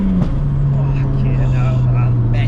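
A loud, steady engine drone from a modified 552bhp Vauxhall Astra VXR with a screamer pipe exhaust dips slightly in pitch early on, with voices talking over it.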